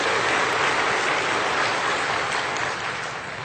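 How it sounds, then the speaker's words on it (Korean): A Korean church congregation gives thankful applause during a Sunday sermon, a broad, steady roar of many hands clapping together, sustained at even loudness and tapering slightly toward the end. "우리 하나님 앞에 감사박수 다시 한번 더 해요."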